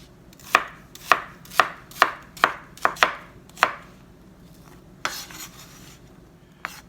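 A knife chops small garden onions on a cutting board in about eight sharp, evenly spaced strokes. A few scraping and clattering kitchen sounds follow as the chopping stops.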